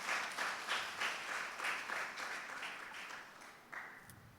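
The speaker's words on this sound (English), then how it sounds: "A mighty clap, my dear friends, for the glory of God." A congregation at a healing prayer service in St. Joseph's Church claps in a soft, pulsing rhythm, rounds of hand claps rising and falling in regular beats, fairly faint and slightly distant.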